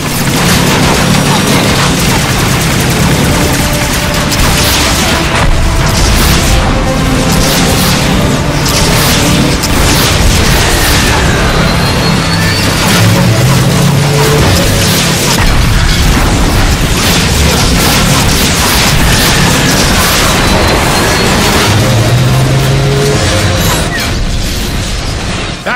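Continuous loud explosions and blasts in the video game Transformers: Fall of Cybertron, as wheel struts are shot out amid mechanical clanking and weapon fire, forming a dense, unbroken barrage with no pauses.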